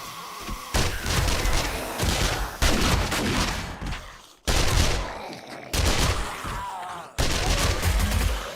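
SMG gunfire in a video game, loud rapid bursts repeating in several separate volleys with short gaps between them, close and punchy.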